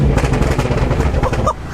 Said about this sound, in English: even just the bang on the first downshift there